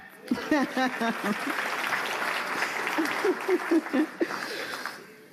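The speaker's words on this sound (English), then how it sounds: "You're welcome to clap." People in the audience at a housing finance incubator launch clap briefly and thinly, while a speaker keeps talking over the sound.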